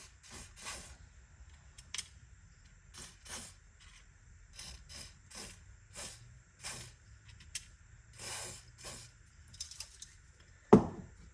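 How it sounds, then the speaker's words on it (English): Short hissing bursts of aerosol spray cleaner into a non-starting Molbico chainsaw, repeated irregularly about a dozen times, close by, with one sharp clunk near the end. "We'll just spray a bit in there to get any gunk out"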